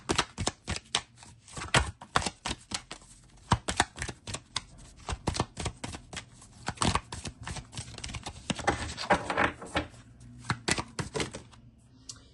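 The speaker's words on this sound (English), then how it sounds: "I'm going to keep shuffling until just 1 comes out" Tarot cards being shuffled by hand, a long run of quick, irregular papery clicks and taps at close range, with no talking.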